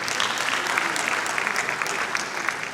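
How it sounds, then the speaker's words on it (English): Audience at a Nigerian investment event with state governors breaks into a loud, steady round of applause, dense clapping filling the whole stretch without letting up. "let's give Ogun State also a big round of applause"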